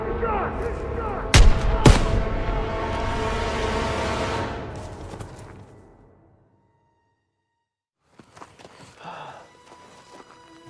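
Heavy rifle shots crack and boom in a World War II battle in the video game Call of Duty WW2. Two loud, close blasts are followed by a long rumbling decay. After a brief silence, faint scuffling and movement follow.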